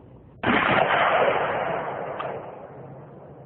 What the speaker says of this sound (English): Dragon's Breath is advertised to torch all organic matter in its path.